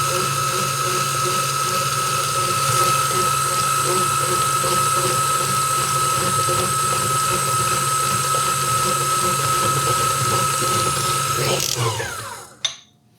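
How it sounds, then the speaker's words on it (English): A small electric hand mixer creams cookie dough with sugar for spritz cookies, a steady close whirring drone with mechanical rattle running throughout before switching off near the end. "Kind of weird to go from a big mixer to a small one because I was using a Bosch earlier"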